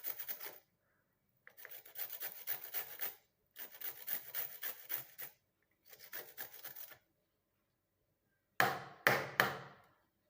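Half a tuber is rubbed against a grater for juice in four steady, gritty scraping bursts split by short pauses, then ends with a few sharp knocks. No one speaks.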